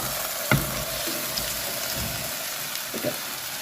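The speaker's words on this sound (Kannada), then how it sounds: "ಆ ನೀರು ಸಮೇತ ಹಾಕ್ತಾ ಇದ್ದೀನಿ." Boiled mutton is tipped into a hot pan along with its cooking water, giving a steady wet hiss and splashy sizzle with a couple of soft thuds as the pieces land.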